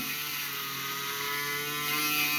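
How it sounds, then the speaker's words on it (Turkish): A Braun Series 5140 electric shaver dry shaves a four-day beard, giving a steady, close mechanical buzz with fine high-pitched whirring that holds constant throughout, heard alone without talk. "Şimdi sizlere 4 günlük sakalla kuru tıraştaki başarısını göstereceğim."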